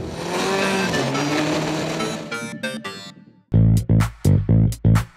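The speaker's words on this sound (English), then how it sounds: "ride the clutch and keep the RPMs high as I exit the last turn and finish the course" A Formula D drift car's engine revs hard at high RPM with the clutch slipped in second gear while exiting the final turn, first a sustained roaring wail, then a series of loud, sharp revving bursts close by.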